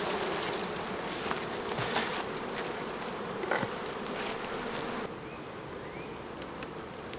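Honey bees buzz around an open hive during a frame harvest, a steady dense drone with a thin high whine, close and continuous, with a few faint knocks and no voices.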